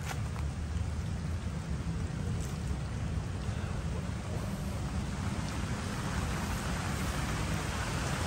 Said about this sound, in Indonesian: saat ini kalian bisa lihat hujan lagi dan airnya naik lagi